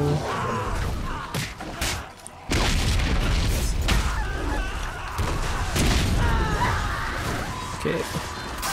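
Satchel bombs go off one after another in a Lord of the Rings Conquest battle, with loud booming blasts and crashing bursts over continuous battle noise and a brief lull.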